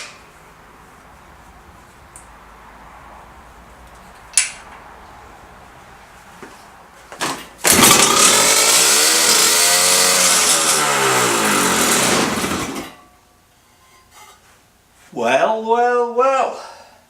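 Harley Davidson Topper scooter engine, carburettor bypassed, coughing into life after a couple of clicks and running loud for about five seconds before dying, followed by a brief second revving burst, close by.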